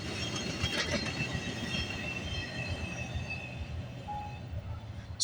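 A VIA Rail passenger train passes at night, a continuous rumble of rolling cars with steel wheel noise and faint squeal, steady and fairly close throughout, with no voices.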